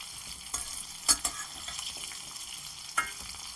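Onions and dried chillies sauté in a heavy kadai on low flame for Pallipalayam chicken, a soft, close sizzle broken by a few sharp clinks and scrapes of stirring.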